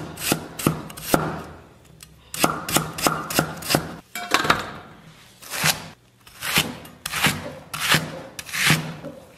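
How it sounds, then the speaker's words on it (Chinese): Fresh ginger sliced thin with a kitchen knife on a wooden cutting board: quick runs of crisp, close knife taps in bursts, separated by short pauses, with no one talking. "姜给它切成这种小薄片"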